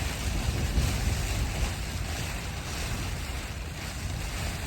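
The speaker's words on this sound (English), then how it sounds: "I don't know what the wind is out there, but it's definitely over 40 miles per hour." High wind above 40 mph batters a makeshift umbrella shelter roof, a loud, continuous roaring rush with gusty surges and low rumble, no speech.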